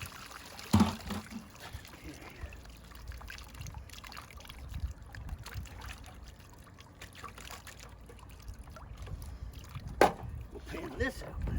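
Water trickling and sloshing as gravel is washed out in a Keene Mini Max high banker outdoors, soft and continuous with occasional splashes and clunks.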